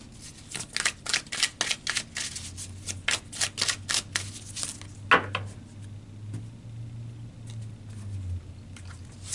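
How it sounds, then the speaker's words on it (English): Tarot deck being shuffled by hand, a quick run of crisp riffling card flicks close up, followed by softer card handling and a faint low hum, with no talking. "So let's pull some more cards"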